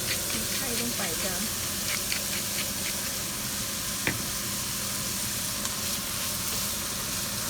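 Eggs go into a hot pan and sizzle with a loud, continuous hiss, joined by a few small scraping taps.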